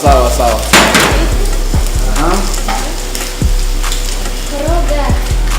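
Ginger and garlic paste sizzling in butter in a pan, a steady hiss with occasional sharp stirring clacks, while a low tonal hum with sliding pitches runs underneath throughout.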